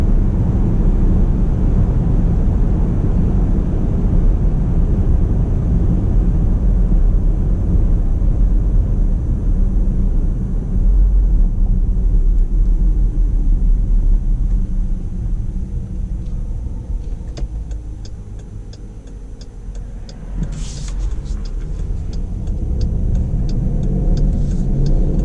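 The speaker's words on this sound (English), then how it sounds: "you just have the nice sound of the engine when you're accelerating" Deep V8 engine rumble of a 2019 Jeep Grand Cherokee Overland with a 5.7L Hemi accelerating at about one-third throttle, steady and loud, easing off partway through before building again, with no talking.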